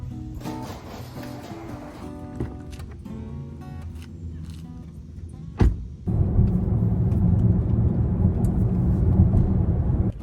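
A Volkswagen Atlas with an automatic transmission drives along, its engine and road rumble steady, rising into a louder, fuller drone as it picks up speed after a sharp knock.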